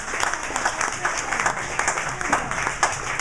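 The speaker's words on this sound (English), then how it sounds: "So give her one more round of applause for the National Arts Festival." An audience at an arts festival fundraiser claps in steady, sustained applause, a dense crowd patter with no break across the clip.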